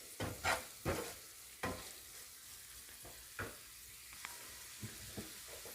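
A spoon stirring mashed potato, tomato and peas with spices for pav bhaji in a pan, soft scraping strokes repeating at an uneven pace, close but quiet over a faint sizzle.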